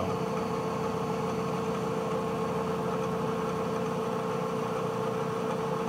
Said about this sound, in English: we got it set up in the mill just to go off the top of that plug